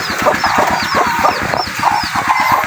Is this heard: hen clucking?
yes